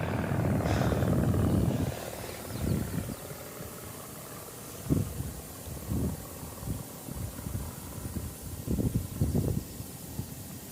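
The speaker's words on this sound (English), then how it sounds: "So this is just a little piper from the Aero Club, one of the trainers they go out in." A small Piper trainer plane from an aero club passes overhead at an airport at sunrise, its engine drone loud and broad at first, then fading into lower, uneven rumbling with intermittent gusts.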